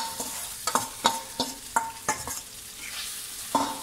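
Seasoning spluttering in hot oil in a pan for a South Indian home-cooked meal, irregular sharp crackles and pops close up over a soft frying hiss, with no talking.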